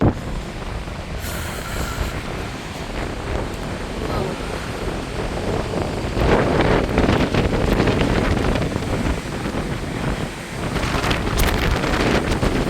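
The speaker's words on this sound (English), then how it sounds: "it's windy and cold on the deck right now" Steady, loud wind buffeting the microphone on a cruise ship deck near Santorini, a broad roaring rush gusting stronger midway, with faint background rumble and occasional distant voices.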